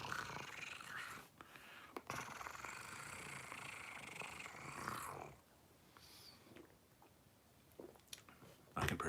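A small cat purrs close by in a soft, continuous rumbling drone that fades partway through, with a few faint rustles and no speech.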